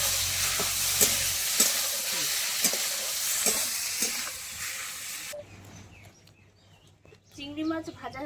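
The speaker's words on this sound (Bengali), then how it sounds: "এবার চিংড়ি মাছটা আমি দিয়ে দেবো, দিয়ে ভেজে নেব" Shrimp frying lightly in oil in a pan, a steady bright sizzle with occasional stirring clicks for several seconds, then the sizzle drops away and a voice is heard over quieter kitchen background.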